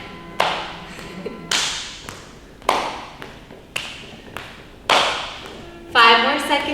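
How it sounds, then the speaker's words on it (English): A fitness class claps together in unison during a workout, several sharp group claps at irregular intervals with music and an instructor's voice underneath. "We're all clapping together."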